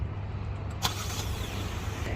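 A 2023 Kia Seltos idles after a remote start, a low, steady engine hum at close range with a brief sharp click near the start.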